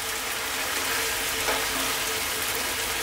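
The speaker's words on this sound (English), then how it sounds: "Let's throw this around in the pan for a couple of minutes, getting that sauce on and around our pasta." Cooked pasta tossed in a pan of garlic chicken tomato sauce gives a continuous, fairly loud sizzle and bubbling, with soft stirring scrapes throughout and no pauses.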